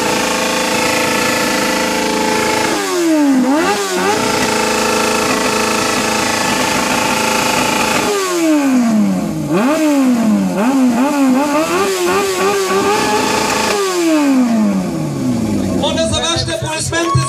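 A motorcycle engine revs repeatedly in loud bursts, rising and falling sharply several times, with a steady idle between the revs and a crowd and speech faintly mixed in.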